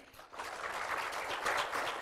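A small audience at a children's drawing and painting contest award ceremony gives a brief, faint round of applause, soft and distant, swelling slightly before the end.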